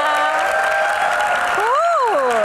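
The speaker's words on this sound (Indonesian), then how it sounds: "tepuk tangannya mana?" A studio audience of university students in Jakarta claps steadily and loudly throughout, with a voice talking over the applause.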